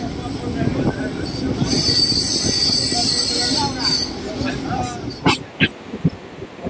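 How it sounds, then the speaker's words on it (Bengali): A Kalyani Simanta–Budge Budge local train pulls into platform 4 at Barrackpore station, steady loud rumble with high wheel squeal building midway, then sharp clanks and knocks as it slows, with voices faintly under the noise. "ট্রেন ঢুকছে ব্যারাকপুর স্টেশনের 4 নম্বর প্ল্যাটফর্মে"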